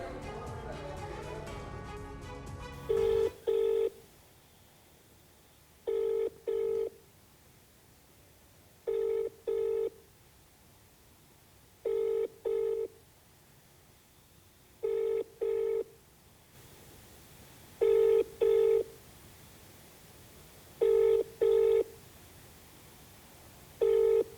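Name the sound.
telephone call dialing and ringing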